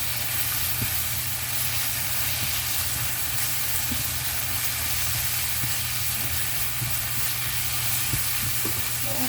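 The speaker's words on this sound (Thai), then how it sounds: "พอเห็ดเริ่มสุกได้ที่เราก็จะเอาแครอทลงไปผัดรวมกันเลยนะคะ" Mushrooms and carrots stir-fried together for Korean-style glass noodles give off a steady, close sizzle with faint scraping of the stirring. There is no talk.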